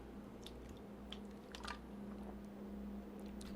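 Sparkling water is sipped from a glass, with soft wet swallowing and faint fizzing crackle, close and quiet against a low steady hum.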